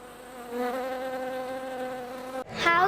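Honey bees buzzing inside a hive, a steady close harmonic drone that holds evenly, then shifts abruptly to a brighter, louder buzz near the end.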